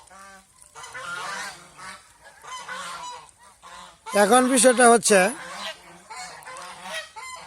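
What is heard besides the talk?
domestic duck calling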